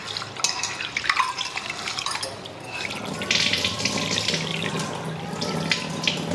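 Tap water runs and splashes while rice is washed in a vessel, with uneven gushing and dripping, and sloshing and stirring of grains toward the end.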